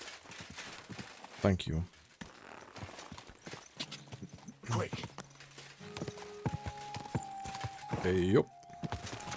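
Horse hooves clop in an uneven, fast rhythm in Kingdom Come: Deliverance II, loud bursts of galloping mixed with game music tones and short spoken calls to the horse.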